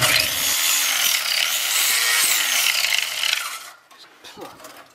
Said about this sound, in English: cutting out the floors, using the grinder here